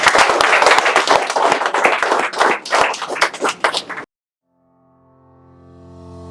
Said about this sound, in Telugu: మేమందరం చప్పట్లతో స్వాగతం తెలియజేస్తున్నాము